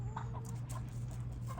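A backyard chicken clucks in short, soft bursts over a low steady hum, several quick clucks spread across a moment, faint and fairly close.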